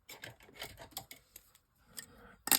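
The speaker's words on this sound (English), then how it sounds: "Let me get my scissors." Scissors snip through an Altenew die-cut paper offcut, quick close crisp cuts in a short run, then a louder rustle at the end.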